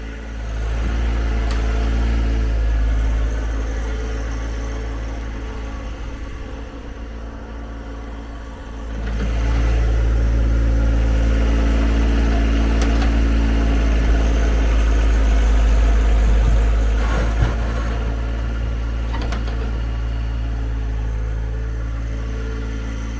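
A John Deere 1025R compact tractor runs steadily during snow removal, a close, continuous engine drone that dips briefly then rises again, with faint clanks of the equipment over it.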